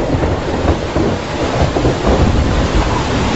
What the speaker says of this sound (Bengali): ঠিক তখনই ঝমঝম করে বৃষ্টি নামলো বাইরে